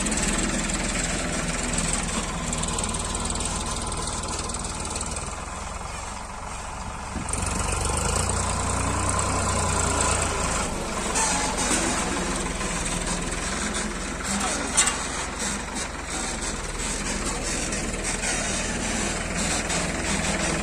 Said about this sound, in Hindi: ये हो गया अभी ट्रैक्टर बंद।